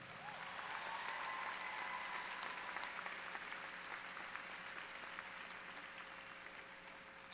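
Steady applause from a commencement ceremony audience fills the whole stretch, a dense even patter of many hands clapping, fairly faint and distant.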